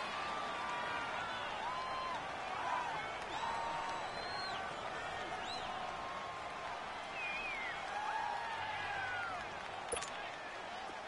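Stadium crowd in a football video game, a continuous roaring wash of cheering and whooping with scattered whistles and shouts, moderately loud and sustained throughout.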